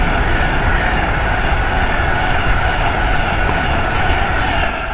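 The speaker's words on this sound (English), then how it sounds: "The next train passed by is Avanti 390." Loud, continuous rumble and roar of an Avanti Class 390 train passing close by at Northwick Park, steady throughout with faint rhythmic rail clicks.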